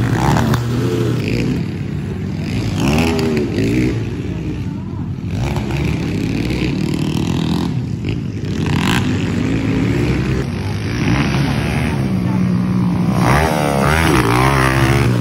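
Loud, continuous motocross motorcycle engines revving and droning throughout at a local enduro race, rising and falling in pitch, with some voices mixed underneath.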